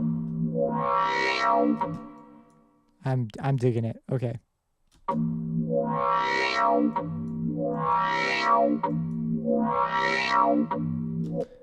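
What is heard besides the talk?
synth bass with reverb effect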